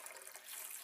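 Water poured into a blender as the first step of a green smoothie, a steady broadband rush of liquid filling the jug, close and continuous for under a second with no talk.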